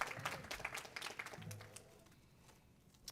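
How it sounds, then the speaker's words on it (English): Audience applause at a fast pitch startup competition in Hemet-San Jacinto as the next presenter takes the stage, moderately loud at first and thinning out toward the end. "Round of applause"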